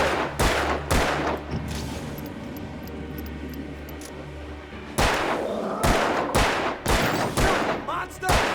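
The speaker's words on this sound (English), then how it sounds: "Can you shoot any fucking slower?" Gunfire in the Alan Wake video game: two sharp bangs open the passage, a steady low rumble of game ambience follows, then a rapid, loud cluster of shots erupts near the end.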